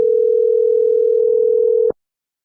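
A steady single-pitched telephone tone hums continuously while a call is being placed, loud and close, then cuts off abruptly after about two seconds.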